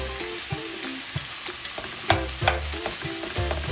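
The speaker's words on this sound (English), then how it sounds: "so we got a good sear on this meat" Meat for Mexican tacos searing in a hot pan, a steady sizzle broken by repeated scraping and stirring knocks, close and loud with no talking.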